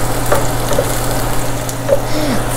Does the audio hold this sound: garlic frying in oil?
yes